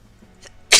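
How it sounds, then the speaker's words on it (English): A single sharp sneeze bursts out near the end, loud and close, after a brief quieter breath-like sound. "I tried muting there and it just sneezed."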